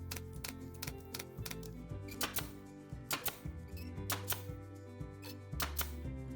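Upholstery fabric being stapled onto a chair, a series of sharp, close staple-gun clacks in an irregular rhythm with a low tonal hum between them.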